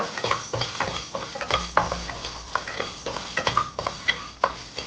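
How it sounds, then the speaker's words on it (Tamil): Horse gram being dry-roasted and stirred in a pan, with repeated scraping and rattling strokes of a utensil against the metal and a light sizzle underneath, close and steady with no voices. "அடுத்து கொள்ளு வறுத்துக்கலாம்."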